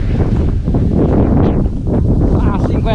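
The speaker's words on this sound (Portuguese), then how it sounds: "Meu Deus do céu, que ventania, pessoal." Strong wind gusts across an open wheat field, roaring steadily against the microphone for the whole stretch while someone talks over it.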